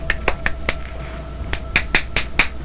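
A lone person attempts a round of applause while commentating a Dawn of War 2 Retribution multiplayer match. About ten sharp, close, uneven hand claps sound in two bursts with a short pause between them, and no talk is heard.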